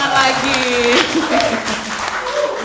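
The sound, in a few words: audience applause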